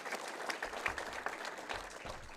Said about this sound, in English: Let's hear a big round of applause for Phil Laporte